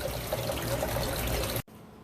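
Water rushes steadily through a sluice box on a Lake Superior beach and splashes down into a bucket, a continuous close trickling pour that cuts off abruptly near the end.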